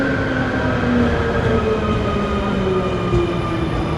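A Medellín metro train rolls along with a loud, steady rumble and a sustained whine of motors and wheels, heard from close range inside or beside the car, with no talking.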